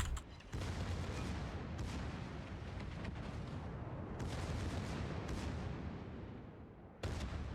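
Secondary guns of the British battleship Agincourt firing in World of Warships, a dense, continuous rumble of overlapping booms with brief pauses between volleys, loud and sustained throughout.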